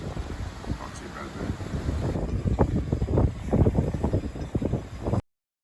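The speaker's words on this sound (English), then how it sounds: "As you might hear, it's still a bit blustery out" Gusty wind blows across the sailboat Tapatya, a steady broadband rush that swells into stronger buffeting gusts about halfway through, loud and close against the microphone before it cuts off.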